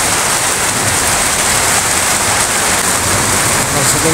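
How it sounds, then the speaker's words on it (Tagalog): Heavy rain pours steadily during a drive to Broadway Pines in Antipolo, a dense, loud hiss that continues without a break. "ang lakas ang ulan"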